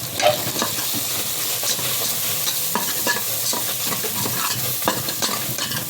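Ground spices — coriander powder, chilli powder, mutton masala and turmeric — sizzle and fry in hot oil for avarai kulambu, a continuous close crackle with scattered sharper pops and stirring scrapes.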